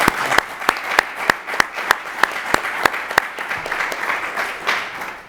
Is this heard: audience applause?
yes